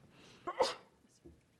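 A single sharp sneeze in a quiet meeting room, short intake then an abrupt burst, fairly faint and distant, with a brief murmur of voice after.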